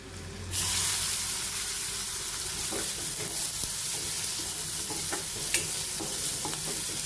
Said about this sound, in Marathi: लसणाचा रंग परत बदलल्यावर आपल्याला याच्यात कांदा घालायचा आहे